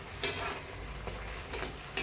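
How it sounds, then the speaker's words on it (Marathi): Urad dal vadas deep-frying in hot oil give a soft, steady sizzle with a few faint pops and clicks, heard quietly and close with no talk. "मीडियम असे तळून घ्यायचे छानपैकी"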